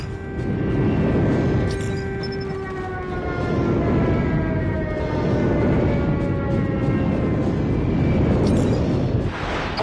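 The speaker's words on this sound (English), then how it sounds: "Friendly airstrike incoming." Friendly airstrike aircraft in a Call of Duty 12 vs 12 war on the ocean match roaring overhead with a falling, sliding whine over loud rumbling battle noise for about ten seconds.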